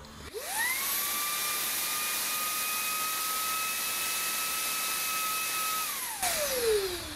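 A Makita 18V cordless dust blower spins up fast to a loud, steady high-pitched whine with a rushing airflow roar, holds evenly for several seconds, then winds down as the motor is released.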